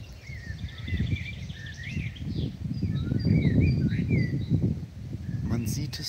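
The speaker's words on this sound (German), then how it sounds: "Und jetzt in der Mitte vom Bild ist ein Star. Beide singen aus tiefstem Herzen." A blackbird and a starling sing together outdoors in a quiet valley, thin warbling phrases and whistles scattered over the clip while someone talks softly underneath.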